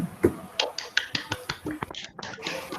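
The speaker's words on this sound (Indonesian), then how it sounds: "Beri tepuk tangan untuk teman kalian." A classroom of students clapping for a classmate, a scattered series of sharp individual claps at an uneven rhythm, fairly close and moderate in level, with a brief lull before the clapping picks up again.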